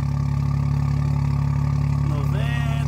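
A parked car's engine idles steadily and loudly with a deep, even hum throughout, a brief higher whine rising near the end.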